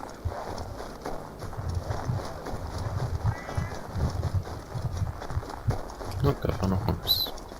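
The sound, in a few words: horse hooves clip-clopping in video game Assassin's Creed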